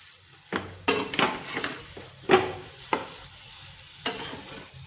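A salted mixture being stirred in a pan with a utensil, several distinct scraping strokes and clinks spaced about a second apart over a faint sizzle, close and clear.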